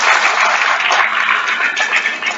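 Enthusiastic audience applause fills a youth parliament event hall, a dense, continuous wash of many hands clapping at close range, steady and loud throughout with no voices rising above it.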